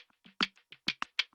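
A crisp, bright hi-hat sample from an Afro dancehall beat ticks out a few quick, uneven hits, dry and close, with nothing else playing.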